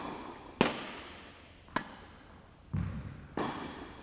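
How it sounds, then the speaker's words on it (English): Tennis racket strikes on a ball during one-handed backhand practice, four sharp separate hits spaced about a second apart, each a crisp pop with a short ringing tail, fairly close with no voices. "The basic one-handed backhand."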